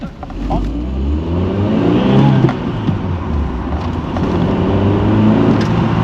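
An MG F Roadster's engine revs and pulls while driving in the sun, a loud, continuous engine drone rising and falling in pitch with road and wind noise, with a voice briefly over it.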